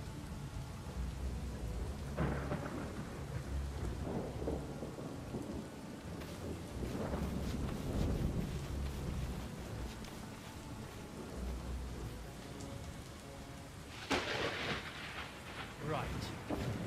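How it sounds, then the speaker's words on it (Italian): Steady rain and rolling thunder from the video game Red Glare, a real-time strategy title, rumble on and off beneath continuous rainfall, with voices talking over the storm. "Santa pioggia."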